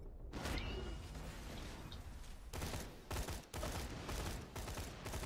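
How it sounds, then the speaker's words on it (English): A Dahl assault rifle fires in Borderlands: The Pre-Sequel, rattling off several rapid bursts with short gaps between them. The shots are close and loud and mixed with game-world effects. "fire rate doesn't seem to be decreased, at least the burst fire"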